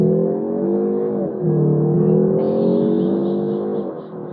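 A 2025 Mazda 3 sedan accelerates from the line with a steady, smooth engine drone heard from inside the cabin, its pitch rising and dipping briefly at a gear change before climbing again.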